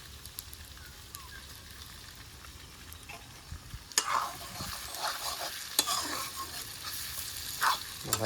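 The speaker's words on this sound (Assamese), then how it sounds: "বহাই দিয়া হ'ল মাংস" Meat sizzles and fries in a pot outdoors, with steady crackling and stirring scrapes that grow louder and busier partway through.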